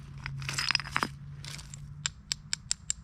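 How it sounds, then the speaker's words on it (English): Sandstone and limestone stones shifted by hand, giving dry clacks and crunchy scrapes, with a run of sharp, evenly spaced knocks near the end; close and fairly quiet. "When you move stones, you should be able to hear."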